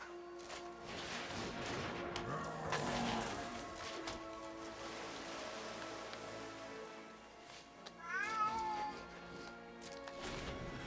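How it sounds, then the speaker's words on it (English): A cat gives a few short meows near the end, indoors, over a busy background of game music and sound effects. "Please, stop meowing."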